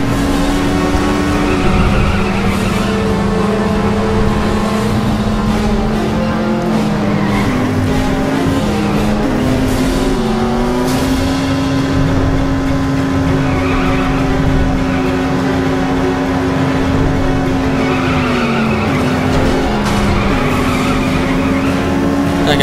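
Race car engine droning steadily throughout a driving sequence in The Saboteur video game, with a sustained pitch that rises and falls, tires squealing and skidding over it, loud and continuous.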